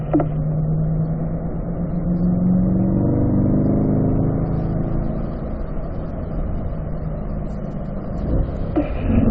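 A car engine accelerates steadily during a track driving lesson, a sustained close droning whir with rising pitch that holds for several seconds before easing slightly near the end.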